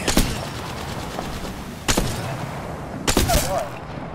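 Apex Legends gunfight with three sharp, separated gunshot bursts over a low ambient rumble, with a player's voice briefly audible between them.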